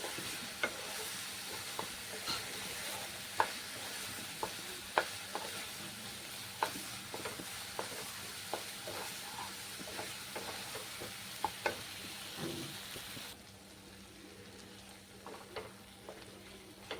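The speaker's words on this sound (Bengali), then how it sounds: "মশলাটা এইরকম কষানো হবে।" Ground spice paste with tomato stirs and sizzles in a pan for a Bengali rohu fish in poppy seed dish, with steady frying hiss broken by repeated clicks and scrapes of a spoon, quieter in the last few seconds.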